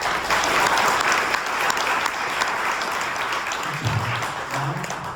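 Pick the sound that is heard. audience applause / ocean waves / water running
audience applause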